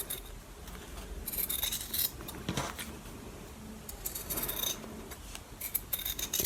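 Scissors snip apart small sewn fabric pieces for a half-square-triangle pincushion, giving faint, close, irregular cuts and rasping blade slides over quiet room tone.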